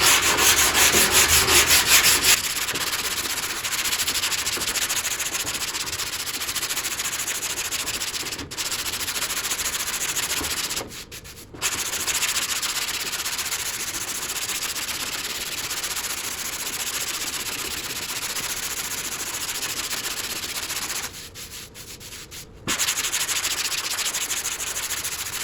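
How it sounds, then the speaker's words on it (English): Body filler on a car panel is sanded by hand with a straight 12-inch Durablock and 80-grit paper, making a loud, continuous rasping rub that stops briefly twice. "Now when I sand this, I'm just kind of letting the block float over it."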